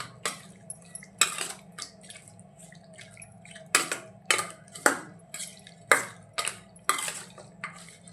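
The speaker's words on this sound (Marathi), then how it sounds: "आणि छान याला मिक्स करून घेऊया। मीठ आणि हळद लावल्याने चव छान येते आपल्या चिकनला।" Raw chicken being mixed by hand with salt and turmeric in a bowl, giving close, irregular clinks, taps and soft wet scrapes, with no talking.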